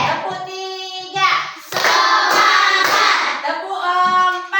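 Children in a classroom clapping game clap in short bursts between sung or chanted voices, the claps dense and close in the middle of the passage with children's voices before and after.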